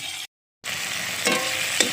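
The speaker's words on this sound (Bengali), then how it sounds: "একবার ভালো করে নেড়ে নিচ্ছি নেড়ে এটা একটু ভাজা ভাজা করে নিচ্ছি" Spices with chopped tomato and onion frying in a kadai, a close, bright sizzle stirred with a utensil, cut by a brief gap of silence, then resuming with a couple of sharper scraping strokes.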